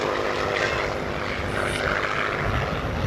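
A vintage SE-5A biplane flying at the 1993 Fairford airshow, its engine producing a continuous rough propeller drone, moderately loud and steady throughout with no voices.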